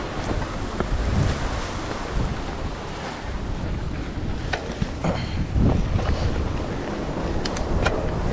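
Steady outdoor wind rushing past on a mountain bike trail in Sariaya, Quezon, Philippines, with gusty buffeting on the microphone and a few faint clicks; no one speaks.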